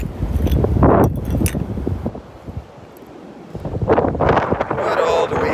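Gusty wind blowing across an open beach at Delnor-Wiggins, with loud low rumbling microphone buffeting that surges, eases for a moment, then builds again, and brief rustling through the gusts.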